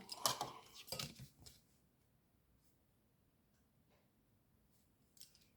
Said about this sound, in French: Et ensuite, on va couper cette partie-là.